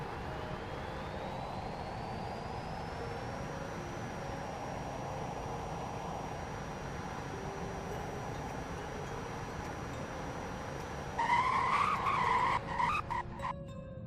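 A Tesla Cybertruck accelerates and brakes in the Roblox game Greenville. A thin electric whine rises steadily and then holds a constant pitch over a low hum, and a brief burst of chirpy, scraping noise comes at the end.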